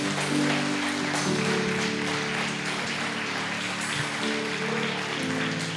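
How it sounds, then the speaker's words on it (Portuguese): Church congregation applauding during a family worship service, a steady wash of many hands clapping over a sustained low musical drone. "dá uma salva de palmas para Jesus"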